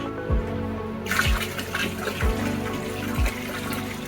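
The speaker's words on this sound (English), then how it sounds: "Right now, we're just adding fresh water, fresh reverse osmosis water back to this." Fresh reverse osmosis water poured into a hydroponic reservoir, a steady close splashing and trickling stream that grows brighter partway through, with a few low knocks underneath.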